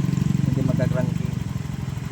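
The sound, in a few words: Honda Beat FI scooter engine running after repair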